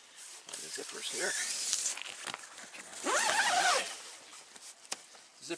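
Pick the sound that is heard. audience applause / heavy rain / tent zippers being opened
tent zippers being opened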